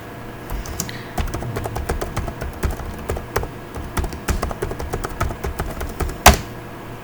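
Someone types on a computer keyboard while entering router commands, producing steady close key clicks in an irregular rhythm with one louder clack near the end.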